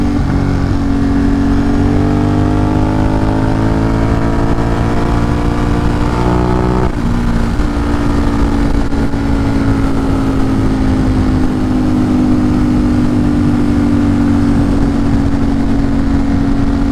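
A motorcycle engine roars steadily on a forest ride, its pitch climbing through the revs, then dropping sharply at a gear change before droning on, loud and close throughout.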